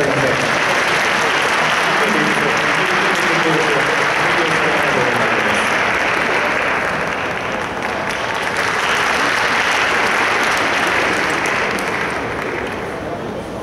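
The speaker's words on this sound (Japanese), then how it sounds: "皆さん拍手でお迎えくださいませ。" Sustained audience applause fills a concert hall as a university glee club choir is welcomed on stage, a dense, steady wash of clapping that stays loud throughout, with a faint murmur of voices underneath.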